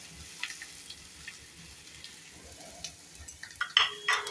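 Chopped ginger and green chilli fry on high flame with a low, steady sizzle and occasional stirring taps, ending in a few sharper clinks of a spoon against the pan; close, fairly quiet, no talking.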